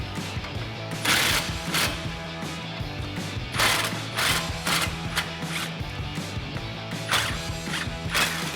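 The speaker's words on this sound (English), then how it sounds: "we'll grab our 21 millimeter socket and remove these" A ratchet with a 21 mm socket works on the suspension bolts of an F-150 during a 3-inch lift kit install, giving repeated clicking pulls and metallic clanks close by in uneven bursts.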